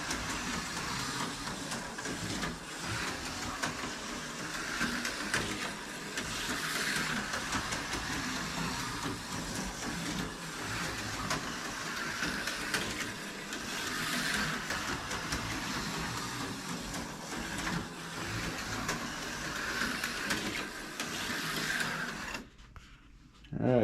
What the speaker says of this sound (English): I'm going to attempt a little track test here, racing and holding the camera at the same time